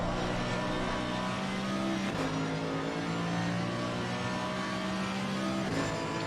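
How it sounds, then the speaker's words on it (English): GT3 race car in a sim racing game at Laguna Seca, a Mercedes on hot track, engine droning steadily with gear shifts and strained tyre scrub, loud and continuous. "You can hear the tyres really trying to work hard here"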